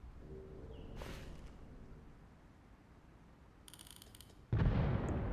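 A drone strike or RPG explosion in the military shooter Arma Reforger erupts as a sudden loud blast near the end, then a heavy rumbling roar, after a stretch of quiet background ambience with faint distant pops.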